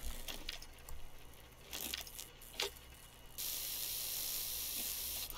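Healing spray from the survival game Volcanoids: a steady, loud hiss that starts partway through and holds to the end, over a busy game soundscape with bursts of noise before it and no talking.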